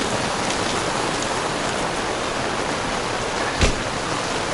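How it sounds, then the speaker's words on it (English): Heavy rain pours at an RV campground in a dense, even hiss throughout, with one brief sharper knock near the end. "even though it's pouring down rain here"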